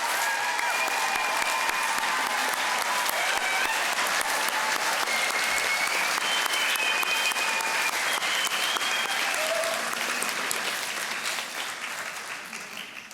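The crowd at a university nursing convocation gives a round of applause for undergraduate BSN students, a sustained, dense clapping that holds evenly for most of its length before fading out near the end.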